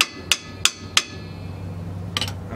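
Hammer blows drive a rear brake pad into place on a Lexus IS300 during a pad and rotor replacement: three sharp, evenly spaced metallic strikes, a pause, then a quick cluster of lighter taps, all close and loud over faint background hum.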